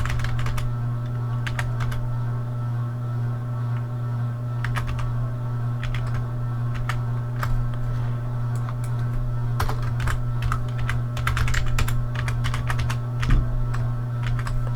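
Fingers type a password on a computer keyboard in scattered bursts of clicky keystrokes over a steady low hum, close and clear with no talk.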